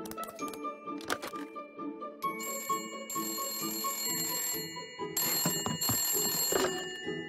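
A cartoon telephone rings in a German children's show with a bright, repeating electronic bell tone over soft background music, steady and moderately loud for several seconds with no speech.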